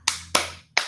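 Three sharp hand claps spaced unevenly, each crisp and close with a short decay, no voices; part of a classroom group clapping chant.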